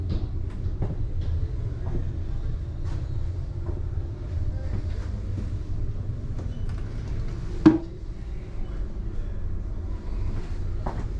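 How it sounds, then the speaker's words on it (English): Inside a train running from Den Haag to Amsterdam, a steady low rumble with faint rhythmic clicks and one brief sharp clack continues throughout. "On the way to Amsterdam."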